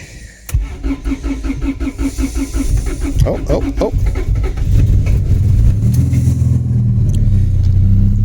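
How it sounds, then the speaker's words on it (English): A Honda del Sol engine swapped to an F20B cranks with a rapid rhythmic whir, then catches and settles into a steady idle; a voice briefly exclaims. "Let's go and give her a crank."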